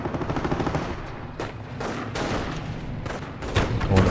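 Battlefield gunfire in Company of Heroes, a dense mix of rifle and machine-gun shots with sharp cracks layered over steady combat noise, continuous and fairly loud throughout.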